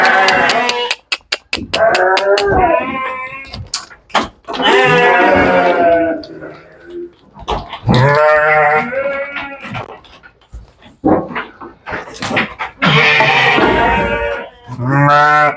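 Sheep at a sheep farm, including pregnant ewes being loaded, bleat loudly and repeatedly up close, with overlapping wavering calls in quick succession.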